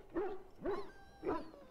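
A dog in the video game Dragon Age Origins gives three short, gruff barks with even gaps between them, close and fairly quiet.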